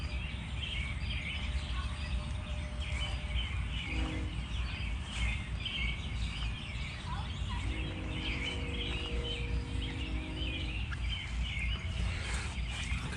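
Birds in a summer garden chirp and call repeatedly over a steady outdoor background hum, with scattered bright calls and a few lower clucking notes throughout.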